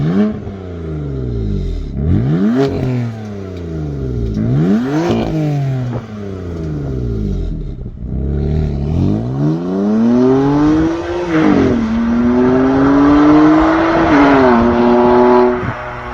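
A BMW M4's Milltek exhaust revs hard several times, rising and falling in pitch, then holds a loud, rough drone near the listener.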